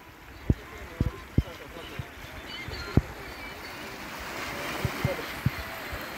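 Sea waves wash onto a beach at Marsa Matruh as a steady rushing hiss, broken by a few sharp knocks, while people talk over the surf.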